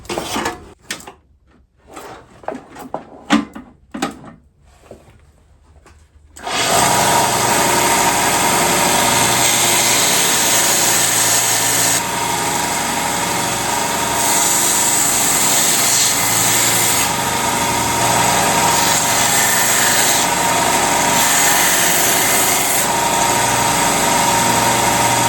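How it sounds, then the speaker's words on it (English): A power sander works on last-minute handmade Christmas gifts. A few quiet knocks come first, then the tool starts with a loud, steady, close whir that runs without a break to the end. "Let's sand this up."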